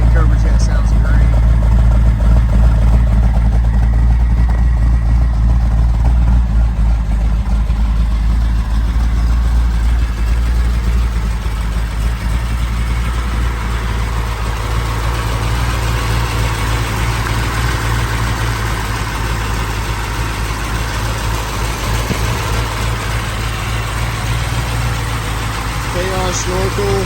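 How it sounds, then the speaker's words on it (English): A 1968 Shelby GT500KR's 428 Cobra Jet V8 idles steadily with a deep, throbbing exhaust rumble that holds constant throughout, while someone talks over it. "It's got a nice exhaust note, not too loud."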